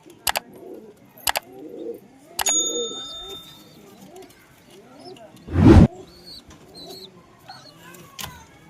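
Soft pigeon coos repeat at a close distance, mixed with a few sharp clicks and a brief loud rustle partway through.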